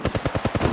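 Rapid automatic gunfire from Apex Legends Mobile rips out in a short, even burst of about eight close, loud shots with no pauses.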